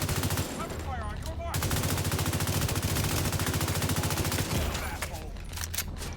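Automatic gunfire in The Division 2 rattles in a long, loud burst of rapid, evenly spaced shots, with a brief quieter gap and scattered shots near the end, and a voice speaking over the firing.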